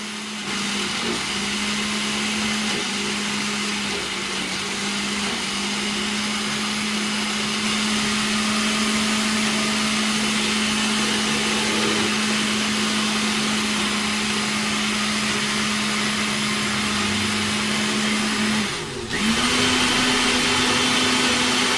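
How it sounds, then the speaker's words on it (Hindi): An electric grinder whirs through mint chutney with garlic in a loud, steady motor drone that holds a constant pitch, then dips and kicks back up slightly higher near the end, with no talking. "ये अब हमने अच्छे से ग्राइंड करना है"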